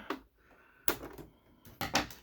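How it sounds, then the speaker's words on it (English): Scissors snipping fabric while sewing a zippered taco-shaped bag, a few sharp crisp cuts in close succession, with quieter handling noise between them. "Get my scissors straight, and then I can cut it."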